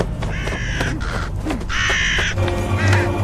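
Crows caw in a scene from the film I Spit on Your Grave, several harsh calls repeating close by over a dense background.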